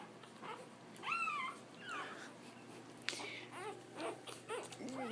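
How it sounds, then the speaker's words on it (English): Newborn puppies in a litter of seven whimper and yip in short, rising squeals that come in scattered bursts, fairly close and moderately loud against a low steady hum. "7 healthy puppies and a happy mama."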